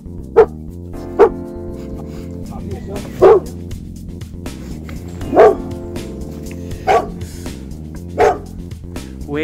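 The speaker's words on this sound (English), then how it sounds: "Bye bye, barky dog." A spaniel barks at a passing walking group outdoors, about six sharp separate barks spaced a second or two apart, fairly close, with low background murmur between them.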